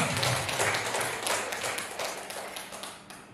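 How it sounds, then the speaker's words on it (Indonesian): A group of teachers stands and claps hands during a workshop session, brisk close applause with individual sharp claps that tapers off. "Bapak Ibu tepuk tangan"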